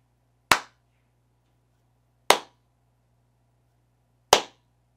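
Three sharp single hand claps spaced about two seconds apart in an untreated studio, each followed by a quick ringing decay in the lively, echoey room with a low hum underneath.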